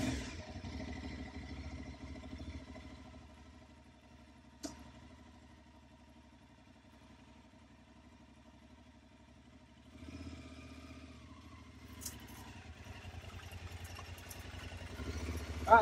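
An Aprilia Tuareg 660 motorcycle engine, fitted with a bike carrier, idles faintly and steadily at a distance, then picks up slightly as the throttle is fed in, with a few soft knocks.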